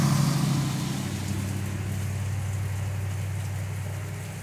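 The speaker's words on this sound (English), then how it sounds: "Here comes the truck." Steady rain patters on surfaces while a truck approaches, its engine a low continuous rumble that is loudest at first and then settles under the rain's hiss.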